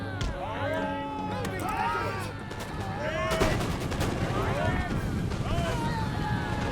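Cannons and muskets fire in a naval battle in Empire: Total War, with a volley of sharp booms and crackling shots over a roaring rush of wind and water, ringing across several seconds.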